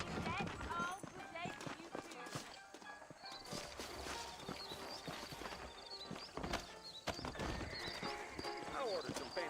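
Horse hooves clip-clopping and a horse neighing in the Western video game Red Dead Redemption, with repeated hoof hits and a whinny under a voice, against busy background noise.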